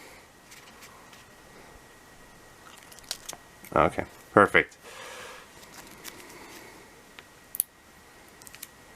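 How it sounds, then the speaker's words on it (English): Scissors snip into plastic packaging around an unboxed Blu S91 Android phone, a few sharp close cuts and crinkles in a quiet room, with brief talking before and after. "Kind of wish it wasn't in plastic, but that's why we have the scissors"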